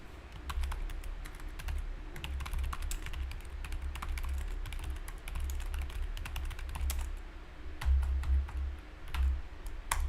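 Computer keyboard typing goes on in quick irregular bursts of close, crisp key clicks over a low background hum, with no talking.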